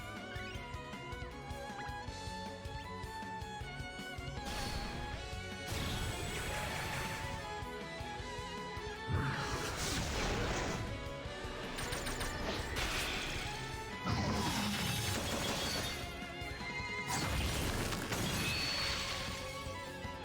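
Jagged Eyes attack effect from the mobile RPG Romancing SaGa, a dense run of metallic crashes, shattering hits and whooshes layered over game music, with several loud impact bursts spaced across the sequence.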